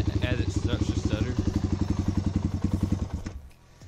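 A cold Suzuki DR350 motorcycle engine with a SuperTrapp exhaust runs in a loud, steady, rapid thumping rhythm. It stutters and drops off sharply near the end.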